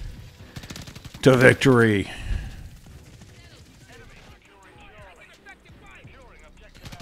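Rapid bursts of gunfire from a tactical gun in a video game, with a loud close volley near the start and quieter scattered shots after, while someone talks over the game sounds.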